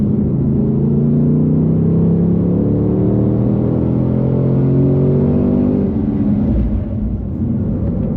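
A Ford Mustang Dark Horse is driven hard on a race track, its engine loud and close as a continuous roar. The pitch sweeps up and down through gears and corners, then eases near the end.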